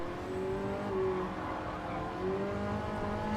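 Race car engine in Gran Turismo Sport, a McLaren driven through the Ascari section, holding a loud, steady high-revving drone with rising and falling pitch throughout.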